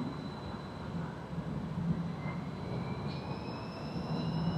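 A Tatra tram on Budapest's line 28 arriving, with a steady rumble of wheels on rails and faint high squeals of the wheels. No talk is heard.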